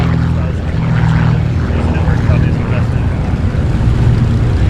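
Propeller airplanes drone loudly and continuously while taxiing and departing at the busy Oshkosh EAA AirVenture airfield, a dense low engine rumble filling the whole stretch, with a voice talking underneath.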